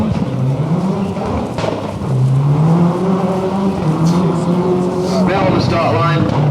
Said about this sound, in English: Robert Reed in the Subaru Legacy, sponsored by LNX.